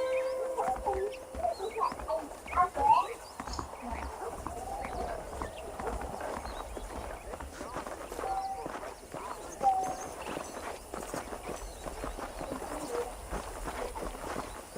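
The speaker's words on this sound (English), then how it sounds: "The horses are saddled up over here." Horse hooves clip-clop steadily on the ground in the Western video game Red Dead Redemption, mixed with chickens clucking and farmyard ambience, the hoofbeats moderately loud and continuous under occasional voices.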